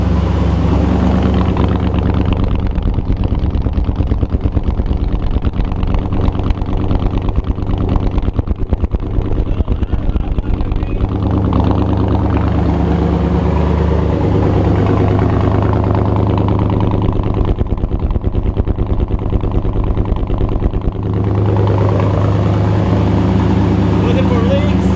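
A 1973 GMC Jimmy fitted with a 6.0 LS V8 idles steadily at about 900 RPM on its first start-up, a loud, continuous low rumble that holds through the whole stretch while a person talks close by.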